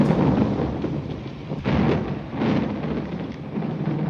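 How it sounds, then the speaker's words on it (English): Storm in an animated Disney villain's death scene: a loud, dense roar of thunder and heavy rain rolling continuously, with low rumbling swells and no voices. "And the rain."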